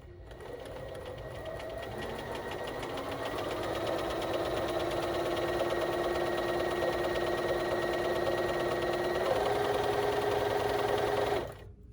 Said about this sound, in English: now I'm going to stitch